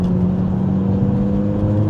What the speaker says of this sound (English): The turbo sounds a bit funny.